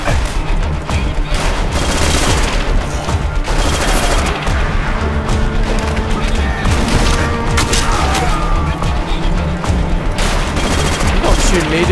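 Dense, continuous gunfire from the Call of Duty: World at War campaign, rapid bursts and booms layered over each other with loud battle noise throughout, with a voice talking over it.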